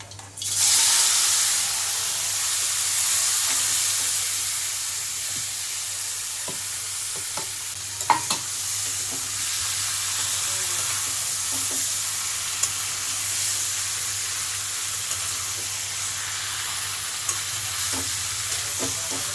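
Hilsa fish pieces coated in raw mustard oil with black mustard seeds cooking in a pan, a steady, even sizzle that flares loudly at the start and then holds, with occasional small clicks.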